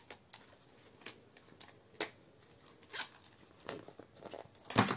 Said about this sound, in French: c'est un classeur qui s'ouvre avec une fermeture éclair